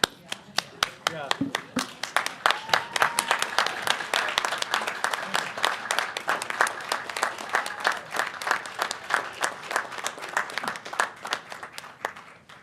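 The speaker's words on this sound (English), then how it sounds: "I think that deserves a stand-up applause" An audience gives a standing ovation to the West Side Singers at a school board meeting, with sustained, dense clapping that continues steadily and loudly throughout.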